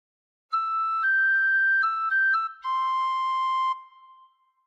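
A short Amazing Grace phrase played on a tin whistle: several clear, sustained notes, one slurred into the next, then a final held lower note that fades out, solo and close with no talking.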